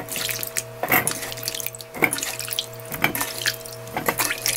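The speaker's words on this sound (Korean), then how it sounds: "이렇게 한 번만 헹궈주면 돼요." Salted radish chunks are rinsed in water at a kitchen sink, with close splashing, sloshing and dripping in repeated surges and no talking.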